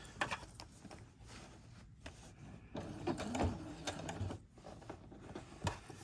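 Domestic sewing machine running a straight stitch on a dress pattern, a faint, quiet mechanical whirring with light rhythmic ticks and small knocks, close and continuous for several seconds.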